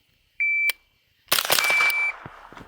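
Shot timer at a night-vision shooting range emits a short electronic beep, followed by a louder burst of sharp sounds and a second sustained beep, then fading clatter.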